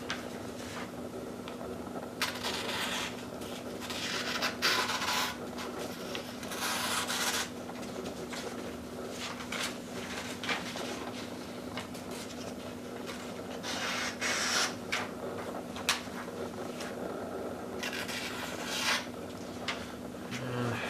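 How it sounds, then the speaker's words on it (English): An Opinel No 8 knife slicing into material in repeated scraping, rasping strokes over about twenty seconds, close and moderately quiet, with a steady low hum underneath. "go ahead and get started making some cuts"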